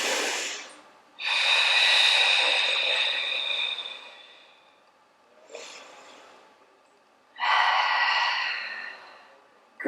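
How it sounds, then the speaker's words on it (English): A person breathes deeply while holding an arm stretch in a home upper-body workout, with close, audible airy inhales and exhales: two long breaths, a short one, then another long one. "And take a couple of breaths here."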